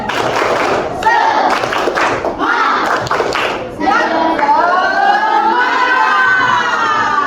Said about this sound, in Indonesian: Tepuk semangatnya ya. Tepuk semangat.